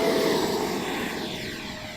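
An FMS Viper 70mm RC jet on a speed trial pass, a loud steady ducted-fan roar that shifts in pitch as the model moves past and slowly fades.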